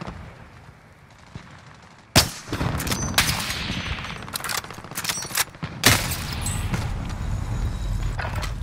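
Gunfire from the Call of Duty Modern Warfare video game: sharp, loud shots and rapid bursts crack over a dense battlefield din, with no talking.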